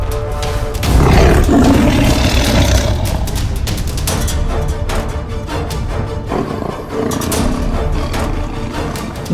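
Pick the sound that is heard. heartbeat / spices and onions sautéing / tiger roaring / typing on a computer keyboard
tiger roaring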